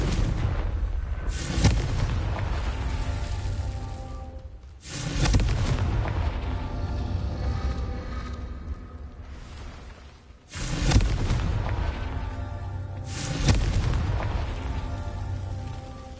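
Booming Confringo spell explosions from the Hogwarts Legacy video game go off in four heavy, loud blasts spaced several seconds apart, each followed by a long rumbling decay.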